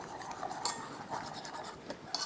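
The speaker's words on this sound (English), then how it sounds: "And then I'm gonna add my milk. I'm just gonna mix it super well," Milk being mixed into flour for sourdough hot cross buns: a faint, steady stirring with soft clinks of a utensil against a bowl, quiet and close, with no talking.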